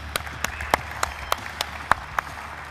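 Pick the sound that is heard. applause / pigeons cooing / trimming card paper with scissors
applause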